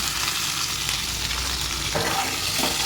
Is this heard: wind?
no